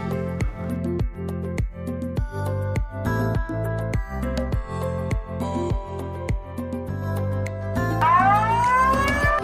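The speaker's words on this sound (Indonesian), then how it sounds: "Pas datang kebetulan lagi ada suara sirine" A siren at a colourful tourist attraction in Ciater, Subang, sounds as a hand-washing reminder: a loud, steady, pulsing electronic tone with repeated beats, ending in rising sweeping wails.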